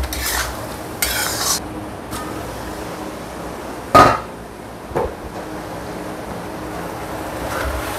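Food is stir-fried in a pan with seasoning, giving a steady close sizzle broken by a few sharp scrapes and clanks of the utensil against the pan, including one louder knock midway.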